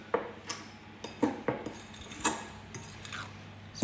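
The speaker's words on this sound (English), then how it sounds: "So make sure you stir this properly with the fork and mix all the ingredients up together." A fork stirs and mixes ingredients together into a soft mixture in a bowl, giving a series of light, irregular metallic clinks and scrapes, close and fairly quiet, with no talk.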